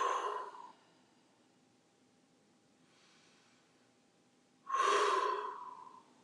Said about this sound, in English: let out a good breathe in through the nose. Nice strong exhale.